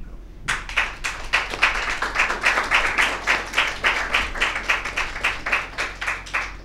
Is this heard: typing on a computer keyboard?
no